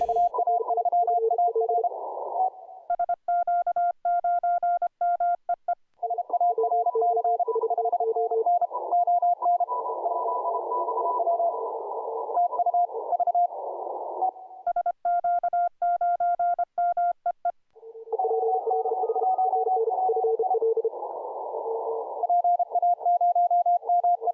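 Steady beeping tones of Morse code on the crowded 10-meter amateur band during the ARRL DX CW contest, several signals at slightly different pitches keying on and off in rapid, overlapping rhythms.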